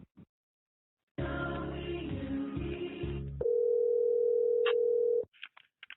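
A telephone line tone plays during a call transfer. A harsh buzzing tone of a couple of seconds is followed by a steady pure tone that holds, then short faint blips.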